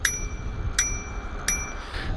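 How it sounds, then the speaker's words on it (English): Two bright, short dings from a bicycle bell on a Totem Victor electric mountain bike, spaced well apart, close and clear over a low rumble of background noise. "one of the most important accessories, the bell"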